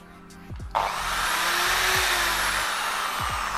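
A Bosch three-function drill revs up and runs at full power, a loud steady whine that holds for several seconds after a brief lower start, with no talking.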